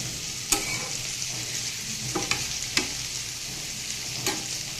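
Flat beans fry in a pan and are stirred with a spatula, a soft steady sizzle broken by a few sharp scraping clicks of the spatula.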